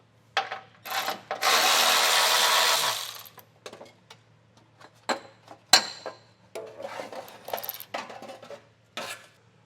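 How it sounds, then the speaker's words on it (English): A wrench works loose the 10mm nuts on the exhaust heat shield of a 2025 Toyota Camry, giving a burst of fast ratcheting followed by scattered metallic clicks and clinks close by. "we can gain access to the 10mm nuts that are holding on our heat shield. We'll get those removed."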